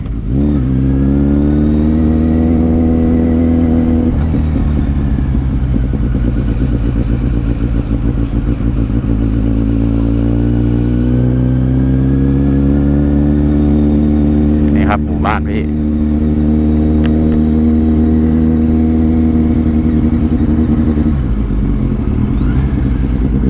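A BMW S1000RR motorcycle fitted with a Daivo exhaust idles loudly, then its engine revs up and holds a rising, sustained drone before settling back. Some light handling noises come through briefly midway.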